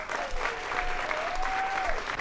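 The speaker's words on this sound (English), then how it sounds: "let's give a giant round of applause to all of our panelists" An audience at a women's real estate panel applauds the panelists: loud, continuous clapping throughout, with a faint tone running underneath.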